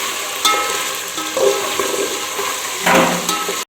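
Meat is fried over a high flame in one pot for chicken and rice, with a loud, continuous sizzle broken by scraping stirs and clanks of a utensil against the pot.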